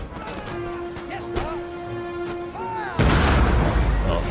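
Artillery firing in the strategy game Empire: Total War, a heavy burst of booming cannon fire erupting loudly near the end after a stretch of softer battle ambience and tonal game sounds.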